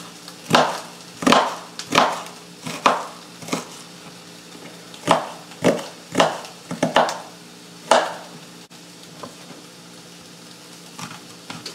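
Rhythmic knife chops through an onion thud on a wooden cutting board, a dozen or so crisp strokes at a steady pace, close up, then slowing and fading to a few light taps.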